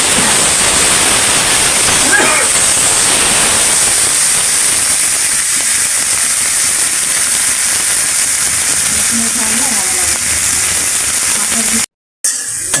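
Garlic, onion, green chillies and dried chillies frying in hot oil while cooking koi fish, a loud, continuous hiss and sizzle that holds steady before cutting out abruptly near the end.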